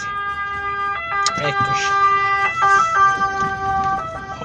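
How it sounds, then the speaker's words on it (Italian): An ambulance siren sounds from inside a car, its steady stepped wail holding clearly above road noise while a voice speaks briefly. "vedo un'ambulanza davanti a dove quelle luci verdi"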